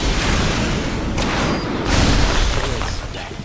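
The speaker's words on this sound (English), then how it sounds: "Blow up this turret." A turret blown up in Bioshock Remastered, played on hard: a dense, loud roar of blast and debris fills the moment, swelling again midway and holding steady to the end, with no voices.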